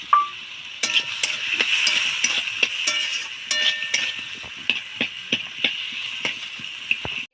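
Potatoes and chickpea fritters crackle and sizzle steadily in a hot pan, with a string of sharp scraping clicks from stirring spaced through the close, continuous frying.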